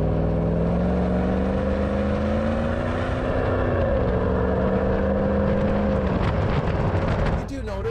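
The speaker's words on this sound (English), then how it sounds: "a 5-liter supercharged engine under the hood with 510 horsepower" A 2011 Range Rover with a 5-liter supercharged 510-horsepower engine, raised for a safari build, pulls hard in a loud, steady accelerating drone with rising pitch, fading out into brief clatter at the end.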